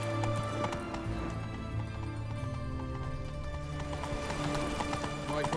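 Roach, the horse in The Witcher 3: Wild Hunt, gallops with a steady clip-clop of hooves over a background music bed. The sound is faint and continuous, with no speech.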